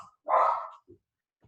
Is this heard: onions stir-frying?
no